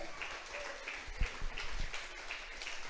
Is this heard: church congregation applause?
yes